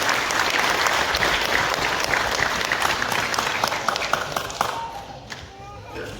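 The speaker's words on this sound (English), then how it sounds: "Everyone give Abel a round of applause." A church congregation at a Sunday sermon breaks into sustained applause, dense and fairly close, gradually thinning out toward the end.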